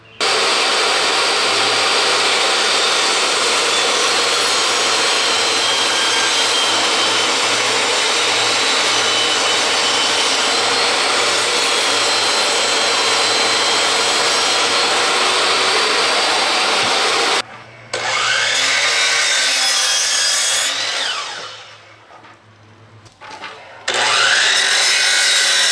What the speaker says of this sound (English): So let's get cutting.